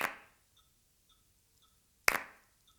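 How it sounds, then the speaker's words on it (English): Two sharp, close hand claps ring out about two seconds apart in a quiet room, with faint soft ticks keeping time between them. "Clap with me."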